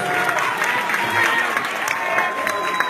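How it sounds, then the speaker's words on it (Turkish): Wedding guests in the Atın Köşk wedding hall in Dortmund, Germany, applaud together in a steady, dense burst of clapping that holds for a few seconds, with a faint sustained tone and some voices in the background. "Alkışlıyoruz."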